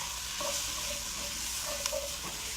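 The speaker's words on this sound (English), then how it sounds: "to this we're going to add 4 more cloves of minced garlic. You just want to saute them for about 30 seconds" Four cloves of minced garlic sauté in a pot with a steady, even sizzle, punctuated by a few soft stirring scrapes, close and alone without any talk.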